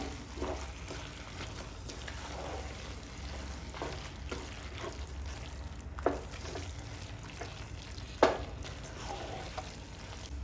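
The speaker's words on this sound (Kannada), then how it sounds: "ತೆಂಗಿನ ಮಸಾಲೆ ಕೂಡ ಹಾಕ್ತಾ ಇದ್ದೀನಿ ಇಷ್ಟನ್ನು ಚೆನ್ನಾಗಿ ಫ್ರೈ ಮಾಡ್ಕೊಳ್ಬೇಕು" Coconut masala frying in a pan for a boti (goat tripe) gravy, giving a steady low sizzle with soft scraping stirs and a couple of sharper clinks, close and alone with no talk.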